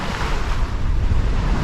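Ocean waves and strong wind at sea aboard a sailboat, a loud continuous rushing wash of surf with heavy wind buffeting the microphone and no voices.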